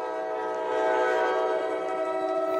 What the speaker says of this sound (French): ça c'est le bruit du gros train qui passe.